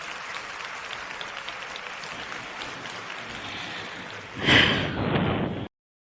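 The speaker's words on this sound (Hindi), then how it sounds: "पूरा हॉल एक बार फिर तालियों से गूंज उठता है" Applause fills a hall at an award ceremony, a steady wash of clapping that swells louder near the end before cutting off abruptly to silence.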